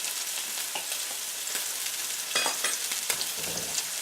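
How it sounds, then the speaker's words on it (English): Steak sizzles steadily in a pan as it is basted with butter, a close continuous hiss with crackling pops and a few louder spoon-scrape bursts. "And we're going to keeping on basting these guys."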